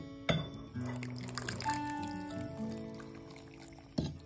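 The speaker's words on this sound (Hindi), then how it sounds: "अब हम इसमें पानी डाल के पीसेंगे" Water is poured into a coconut chutney mix with almonds and salt in a grinder jar before blending. It sounds close and quiet: a sharp start, a steady pour with rising gurgling tones for a few seconds, then a short clunk at the end.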